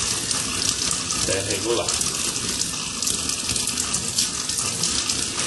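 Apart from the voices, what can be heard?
water running from a tap with a flow reducer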